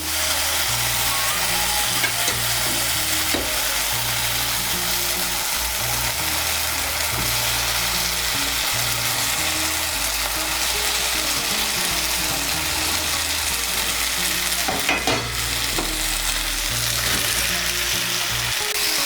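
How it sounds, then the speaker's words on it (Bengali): Fried potato, pointed gourd and soybean sizzle loudly in hot oil and spice paste in a pan, a dense, constant close crackle with occasional scraping stir sounds and no talking. "এখন এর মধ্যে দিয়ে দেবো ভেজে রাখা আলু, পটল আর সয়াবিন।"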